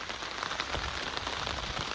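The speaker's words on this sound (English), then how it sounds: "So anyway, it's raining." Rain falling steadily on a small homestead with rainwater harvesting, a dense, even patter on surfaces, close and continuous with no voices.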